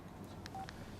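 A short burst of telephone keypad tones from a public phone as a number is dialed, a few quick beeps under a faint, quiet background.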